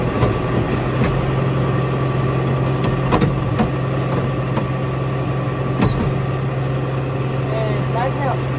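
An engine runs at a steady idle on a farm while trailers are moved. It gives a constant low hum with a few scattered clicks and knocks, and faint voices sit underneath.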